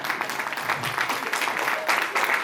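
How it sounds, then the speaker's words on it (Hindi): Crowd applause at a women's honouring event for girls' births, a steady dense patter of many hands clapping throughout, moderately loud with no voices over it. "तो जरा ताली बजा दो इन महिलाओं के लिए।"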